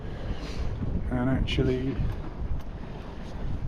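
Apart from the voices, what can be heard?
breeze on a sailboat under headsail with engine off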